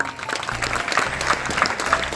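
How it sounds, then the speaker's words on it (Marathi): Applause from a seated audience at a public lecture, a steady dense patter of many hands that stays fairly even and moderately loud throughout. "टाळ्या नका वाजवू याच्यावर"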